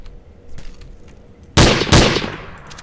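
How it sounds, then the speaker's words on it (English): Two sharp, loud pistol shots ring out in quick succession in Garry's Mod Trouble in Terrorist Town, each followed by a short decaying tail, after a quieter stretch of faint game ambience. "this pistol is the most inaccurate pistol ever"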